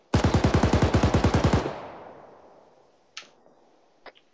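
A long rapid burst of automatic machine-gun fire in the Arma 3 military video game, loud and close, then a decaying echo and two faint distant cracks afterward.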